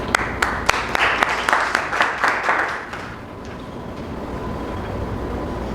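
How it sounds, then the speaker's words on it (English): An audience at a Toastmasters club meeting in a café in Medina claps loudly for about three seconds, with sharp individual claps standing out, before the applause fades into room murmur. "A big round of applause."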